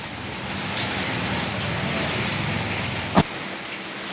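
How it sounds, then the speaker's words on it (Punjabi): Dense, steady monsoon rainfall pattering hard on surfaces, with one sharp knock near the end. "ਅੱਜ 12 ਵਜੇ ਤੋਂ ਮੀਂਹ ਚੱਲਦਾ ਮੀਂਹ ਕਾਫੀ ਪੈ ਰਿਹਾ ਮੀਂਹ ਬੰਦ ਹੀ ਨਹੀਂ ਹੋ ਰਿਹਾ"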